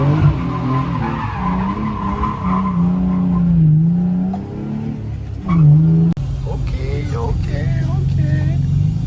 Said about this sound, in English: the tires are gonna be louder than the exhaust